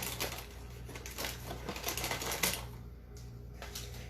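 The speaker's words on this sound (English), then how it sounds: "I'm going to open them up with my scissors." Scissors snip through packaging with rapid, close crackly cuts and plastic rustling, fairly steady over a low background hum and no voices.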